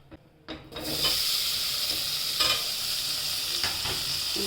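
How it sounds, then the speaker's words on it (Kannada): Paneer cubes frying in a pan with coriander powder, starting with a couple of knocks before a loud continuous sizzle sets in, broken by occasional stirring scrapes, no voices. "ಇದಕ್ಕೆ ಪನ್ನೀರ್ನ ಫ್ರೈ ಮಾಡ್ಕೊತಾ ಇದ್ದೀನಿ"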